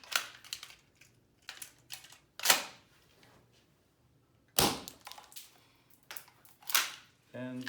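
An airsoft shotgun fires APS XPower CAM shotshells loaded with 4.5 mm BBs, several sharp dry pops spaced irregularly with quiet gaps between them, close and fairly loud.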